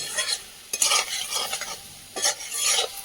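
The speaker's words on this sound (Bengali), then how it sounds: "সবজিটা খুব সুন্দর করে কষিয়ে নিয়েছি।" Vegetables sizzle in a hot pan as they are stir-fried into a Bengali curry, with steady frying hiss and bursts of close stirring and scraping of the spatula.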